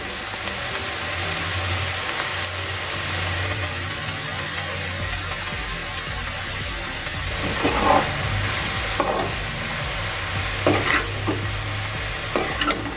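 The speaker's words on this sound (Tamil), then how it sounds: "போட்டு ஒரு கிளறி விட்டுங்க" Ponnanganni spinach stir-fry being stirred in a hot pan with salt and grated coconut, a steady loud sizzle broken by several scraping strokes of the spoon toward the end.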